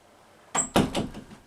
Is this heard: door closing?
yes